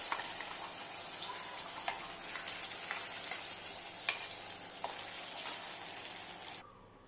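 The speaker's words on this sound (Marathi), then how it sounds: "साधारण 2 टेबलस्पून तेलामध्ये आपण मसाला परतून घेऊया" Masala fries in about two tablespoons of oil in a kadhai for paneer kofta, giving a steady, close sizzle with light stirring scrapes. It continues throughout and cuts off just before the end.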